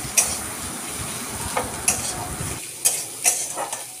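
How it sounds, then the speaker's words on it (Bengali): A spice paste of ginger, green chilli, turmeric and Kashmiri chilli powder is sautéed in a pan, with a soft sizzle broken by several sharp spoon scrapes and stirring clatters. The sizzle drops away partway through. "বাটনাটাকে আমি কষে নেব"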